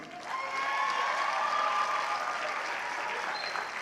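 Sustained applause from a graduation audience honoring graduating honor students at a technical school ceremony, a steady wash of many hands clapping throughout.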